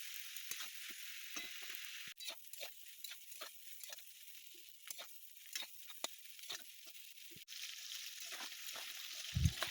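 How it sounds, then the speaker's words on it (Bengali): Jackfruit stir-fried in a kadai with salt and turmeric gives a quiet, scattered crackle with occasional sharper pops and faint scraping, and no voices. "এরপরে আমি কড়াইতে দিয়ে দিব এঁচোর এঁচোরটাকে ভালো করে নেড়ে চেড়ে তারপরে তার মধ্যে দিয়ে দেবো একটু সামান্য নুন আর সামান্য একটুখানি হলুদ"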